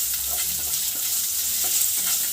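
A thick chutney seasoned with salt is stirred in a sizzling pan, giving a continuous close frying hiss with soft, repeated scraping strokes throughout.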